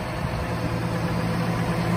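A John Deere 6175R tractor engine idles with a steady, low rumble, even throughout, close by and unchanging, with no voices.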